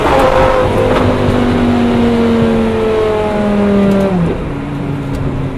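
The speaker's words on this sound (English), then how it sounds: "Just downshifts in this car." A Lamborghini Gallardo's engine revs sharply on a series of downshifts during a cold night drive. The loud, close exhaust note sweeps through pitch changes and ends in a quieter settle.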